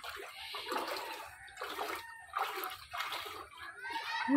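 Water from a tube well tap splashes and sloshes in bursts as someone bathes, several pouring gushes with short pauses between, close and fairly soft.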